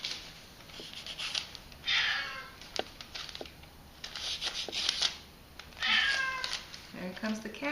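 A house cat meows repeatedly up close in a printmaking workspace while a person talks, the calls mixed with rustling and handling noises from work at the press.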